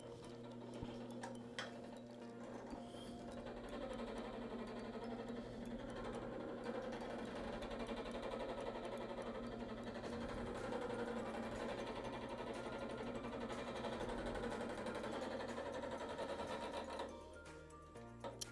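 A metal-spinning lathe turns a pierced metal piece with a steady, loud mechanical whir that runs continuously for about seventeen seconds before winding down at the end.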